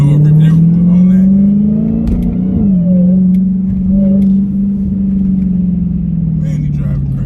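A Dodge Hellcat on 305/30 ZR20 Pirelli P Zero tires is driven hard, its engine a loud, close, steady low drone that swells and dips as it pulls, with voices faintly under it.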